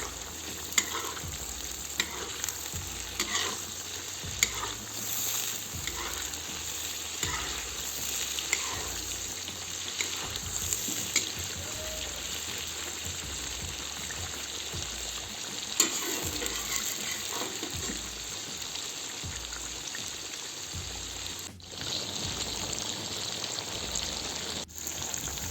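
Onions frying and sizzling in a pot of oil with black peppercorns for Tashkent plov, cooked over an open fire, with a steady crackling sizzle and repeated stirring scrapes throughout.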